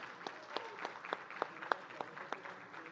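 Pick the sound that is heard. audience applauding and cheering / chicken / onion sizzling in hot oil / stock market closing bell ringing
audience applauding and cheering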